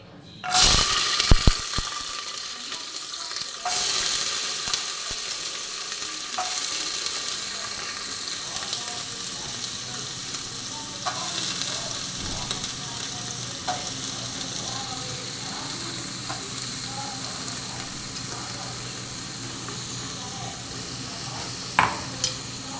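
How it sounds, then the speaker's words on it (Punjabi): Carrot, onion and peas frying in hot oil in a pressure cooker pan, a steady close sizzle with occasional scrapes and clicks as the vegetables are stirred, no talking. "ਤੇਲ ਜਿਹੜਾ ਉਹ ਗਰਮ ਹੋ ਗਿਆ ਹੁਣ ਆਪਾਂ ਇਹਦੇ ਵਿੱਚ ਵੈਜੀਟੇਬਲਸ ਐਡ ਕਰਾਂਗੇ"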